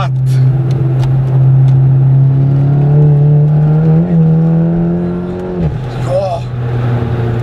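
A VW Golf Clubsport S engine pulls hard out of a corner in first gear with a loud, steady drone that rises in pitch and then drops briefly at a shift, heard from inside the car with a voice speaking over it.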